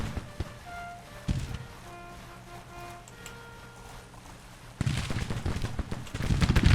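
Civil War troops trade musket fire in a strategy video game, with scattered cracks early, then a loud dense volley of crackling shots near the end.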